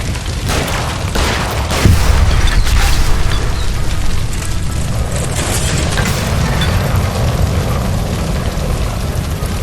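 A gas line blowing up beside a stove in the video game L.A. Noire, a loud heavy boom that swells after the first couple of seconds and then rolls into a dense, rumbling roar of debris and fire.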